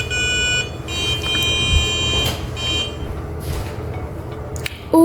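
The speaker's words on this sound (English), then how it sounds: "Oh, and I guess like a buzzer" A Weebot Mini robot car from Weeemake sounds its electronic buzzer, sustained high tonal beeps in several bursts with pauses between them, fairly close, with handling noises underneath.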